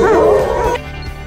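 Animated wolves from the Disney film Zootopia break into a wavering, yipping howl, several voices rising together up close before fading abruptly into a low background hum.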